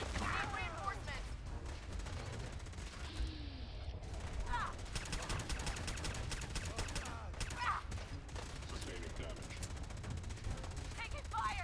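Gunfire in Fallout 4 combat, continuous rapid shots and bursts throughout at a fairly faint level, with shouted voices over the shooting.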